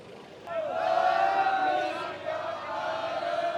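Devotees in a Sikh nagar kirtan procession for Guru Tegh Bahadur's martyrdom centenary raise loud jaikaras, a sustained crowd roar of shouting voices that swells, dips briefly, then carries on, close by.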